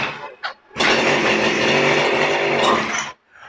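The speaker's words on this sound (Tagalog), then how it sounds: "Ito po yung tiller attachment, tsaka cultivator attachment, kinakabit sa grass cutter, pwede nyo nang ipambungkal." A GX35-type grass cutter engine fitted with a tiller and cultivator attachment starts up after a brief pull and runs at a loud, steady buzzing drone for a few seconds before cutting off abruptly.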